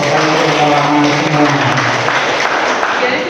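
Audience applause at a Buddhist Puja Bakti closing ceremony: a loud, steady wash of many hands clapping for about three seconds, with a faint murmur of voices underneath.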